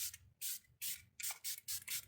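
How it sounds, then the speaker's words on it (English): Setting spray mists out of a pump bottle in several short, hissy bursts, close and fairly soft, with brief pauses between sprays and no talking. "So I'm just going to spray this."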